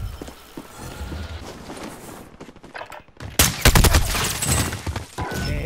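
Rapid bursts of gunfire from the Call of Duty Modern Warfare Plunder Trios mode, several volleys cracking loudly in the second half after quieter thuds and movement, with no clear talk over it.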